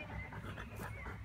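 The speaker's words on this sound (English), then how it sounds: "This dog is silly, it's such an idiot." A dog pants in quick, steady breaths close by, with faint whimpering and no voices, over a short span.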